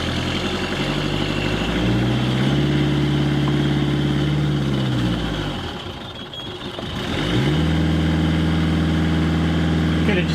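A boat engine idling in Greece right after a fuel filter change to fix fuel flow trouble: a steady, close, throbbing idle that briefly sags and falls off midway, then picks back up to the same even rhythm.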